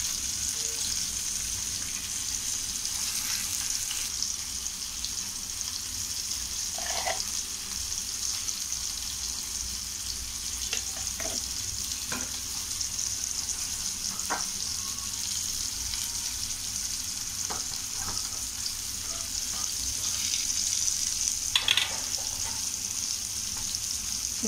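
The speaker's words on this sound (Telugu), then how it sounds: "ఇది చేపలు ఫ్రై అవుతున్నాయి." Small fish fry in a pan over low flame, a steady, even sizzle throughout with occasional soft pops and crackles, no talking.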